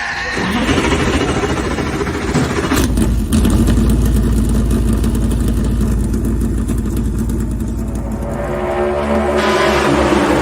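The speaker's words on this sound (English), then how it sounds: "gentlemen, start your engine!" Race car engines start and rev hard at a FASCAR event on a roval circuit, a loud, dense roar of several engines building and holding, with no talk over it.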